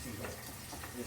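Pork chops searing in a hot pan, a steady, close, dense sizzle that holds evenly throughout a brief moment.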